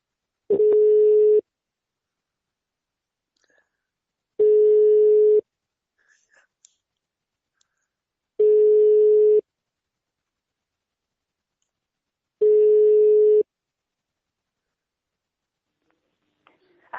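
Telephone ringback tone while calling someone back, four steady beeps of about one second each spaced at regular intervals, with near silence and a few faint clicks between them.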